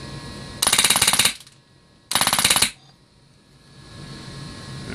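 An XCR airsoft rifle fires two full-auto bursts, each a rapid clattering rattle under a second long, separated by a short pause, followed by a low mechanical hum.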